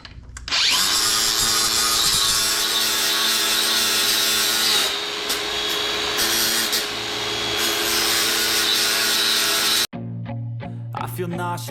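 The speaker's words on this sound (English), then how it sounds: "Grind it down a little bit." Angle grinder grinding down metal on a Dana 60 kingpin axle, one long loud steady whine held close for nearly ten seconds before cutting off abruptly, followed by music.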